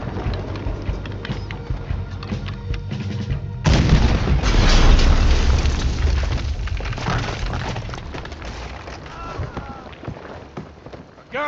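Cannon fire in Red Dead Redemption 2 during a ship rescue mission, a heavy boom erupting partway through and then a long rumbling decay, with game voices talking around it.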